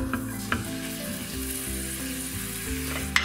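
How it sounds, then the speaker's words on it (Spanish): Salted onion frying in oil in a frying pan for a sofrito, a steady close sizzle with a low hum underneath and a few sharp stirring taps, no voices. "en una sartén empiezo a poner aceite para hacer el frito. Empiezo por la cebolla con un poco de sal."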